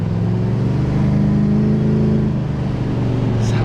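Lincoln Mark VIII car driving up the road after an overheating fix and new cooling fan, its engine a steady close, loud drone with low harmonic hum throughout and no talking.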